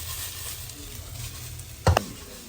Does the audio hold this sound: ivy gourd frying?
yes